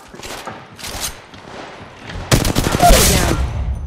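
Rapid automatic gunfire erupts in Apex Legends Mobile after a stretch of scattered shots and game sounds, the bursts loud and dense with a few quieter pops before them.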